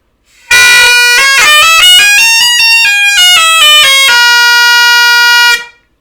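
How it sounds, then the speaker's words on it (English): A Scottish Highland bagpipe chanter from a set of great pipes plays very loudly up close, a piercing reedy melody of quick stepped notes with grace-note flicks, ending on a long held tone before cutting off. "This is the chanter from one of my great pipes."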